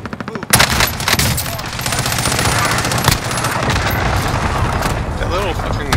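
In the shooter Warzone, a small automatic gun fires in long, rapid sustained bursts, loud and close, with a continuous rattling fusillade and occasional heavier booms.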